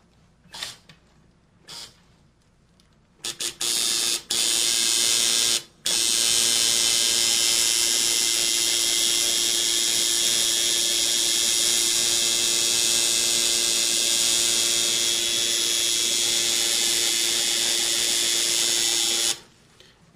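A tattoo machine buzzes loudly and steadily while drawing a line, after a few short start-and-stop bursts, then runs continuously for about fifteen seconds before cutting off.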